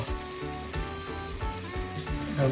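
Red poha tossed into a hot pan with an onion-based poha mixture, frying with a steady close sizzle and rhythmic stirring scrapes repeating about every half second.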